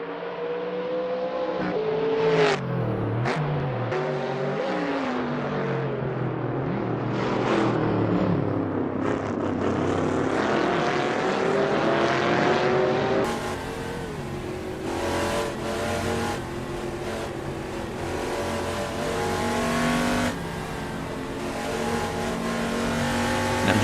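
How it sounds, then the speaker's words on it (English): Cup90 race cars lapping Road America, engines revving and pulling hard through the gears with brief tire squeal, loud and close throughout with no talk over them. "these cars sound really nice"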